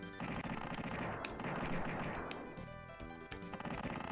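Rapid video game gunfire as orbiting satellites shoot at enemies in Super Earth Defense Force, a dense continuous barrage of blasts and impacts layered over game music, loud and unbroken.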